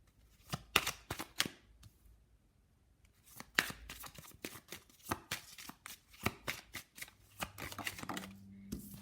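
Love oracle cards are shuffled in quick, crisp bursts of riffling and slapping. The close, papery flutters come in irregular clusters with short pauses, and a faint low hum is underneath near the end.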